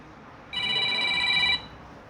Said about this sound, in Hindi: मेरा फोन बोल रहा है